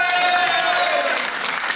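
A studio audience applauding on a 1986 TV dating show, dense, loud, continuous clapping from a crowd with some cheering mixed in, steady throughout.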